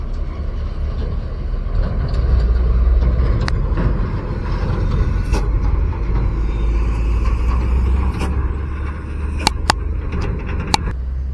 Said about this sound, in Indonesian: truk yang sudah bermuatan tanah gunung menuju ke arah selatan sana ya teman-teman